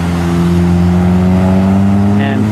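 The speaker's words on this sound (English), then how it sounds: "Red car just came out." Red car pulling out from Boggsford Road near Taylor Road, a loud steady engine drone with a strong low hum, heard close and unbroken.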